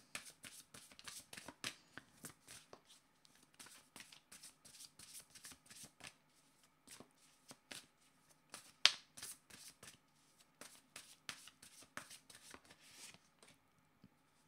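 A deck of playing cards being shuffled in repeated riffles and flicks, with crisp clustered bursts of card noise, one sharper snap near the middle, and no speech.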